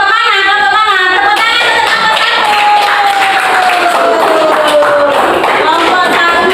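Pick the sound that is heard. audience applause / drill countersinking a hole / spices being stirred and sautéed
audience applause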